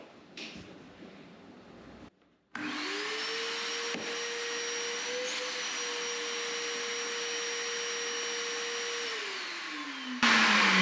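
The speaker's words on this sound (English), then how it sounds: "I'll do a quick test to make sure I've got suction." A vacuum motor drawing through a homemade cyclone dust collector starts up and runs with a steady loud whine and rushing air, then winds down near the end.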